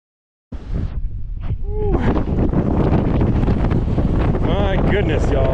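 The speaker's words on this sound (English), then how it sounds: "It is windy, windy, windy." Strong wind buffets the microphone in a loud, rumbling roar that starts suddenly and stays constant, with a voice faintly audible beneath the gusts.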